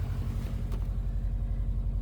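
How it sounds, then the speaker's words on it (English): A Subaru engine idles steadily just after start-up, a close, even low rumble with a regular pulsing beat and no sputtering, heard alone without talk. "I started the car up. It still sounds pretty good. Like, there's no sputtering at all."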